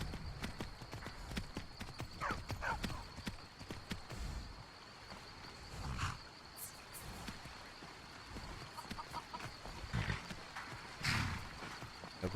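Hooves of a horse clip-clop at a steady walking pace in Skyrim, moderately loud, with occasional louder thumps and scattered game ambience around them.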